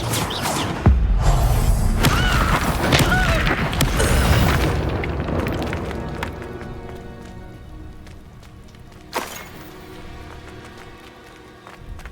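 Spell explosions from Confringo and Incendio casts in a Hogwarts video game, a run of loud booming blasts and thuds over the first few seconds, then fading crackle and a sharp single burst near the end.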